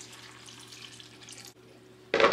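Leftover bean cooking water is poured into a pot for a Serbian dish, a soft watery trickle that stops briefly and then ends in a sudden loud splash.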